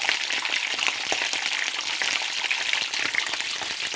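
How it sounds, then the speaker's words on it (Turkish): Stuffing peppers sizzle in hot oil in a pan without salt, a steady dense crackle and spatter that runs without a break, close and fairly loud. "Tuzsuz böyle yağda bir iki çevirip sağlı sollu kızarttık mı tamamdır."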